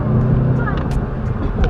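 A loaded Tesla pulls hard away from a busy street, a short, fairly loud burst of motor and road noise with a faint rising whine, steady throughout and with no talk.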